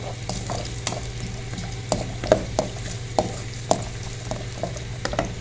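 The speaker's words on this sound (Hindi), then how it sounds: "इनको भी हम साथ ही रोस्ट कर लेंगे ताकि ये भी थोड़े से सॉफ्ट हो जाए" Cashews and pistachios roasting in a pan give off soft, steady sizzling, with scattered clicks and scrapes of stirring, close and fairly quiet, no voices.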